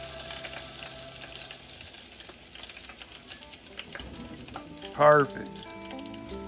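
Catfish fries in hot grease with a steady low crackling sizzle throughout, briefly joined by a short tonal squeak or scrape and one quick spoken word.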